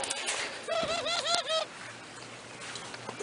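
Inside a loft, a ringneck dove gives a short burst of cooing, a few wavering tonal notes under faint background noise, with soft rustling around it.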